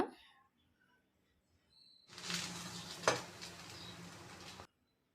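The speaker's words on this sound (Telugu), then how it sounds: "మనం ప్యాన్ మీద ఎలా కాల్చుకోవాలన్నమాట బ్రెడ్ని" Bread slices sizzling as they roast on a hot pan, a faint clink first, then a steady frying hiss for a couple of seconds that stops abruptly.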